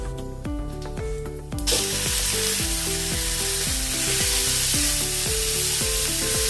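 Onion masala paste for a dhaba-style green peas curry hits hot oil with a sudden loud sizzle that settles into a steady close frying hiss, preceded by a brief pan scrape with no talk.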